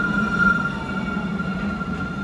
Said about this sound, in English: here comes the train, otherwise known as the Tranvia here.